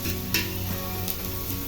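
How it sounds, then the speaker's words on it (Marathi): Vegetables sautéing in an iron griddle (tava) with onion, a steady soft sizzle and faint stirring scrapes running throughout, no voices. "ही भाजी अशी परतायची लोखंडी तव्यामध्ये"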